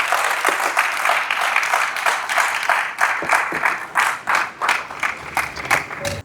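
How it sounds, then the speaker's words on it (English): Audience applause at Ghana's biggest tech conference after a creative panel: a dense, sustained crowd clapping that fills the room for several seconds, steady and moderately loud with no one speaking over it. "One more time, a round of applause for our creative panel"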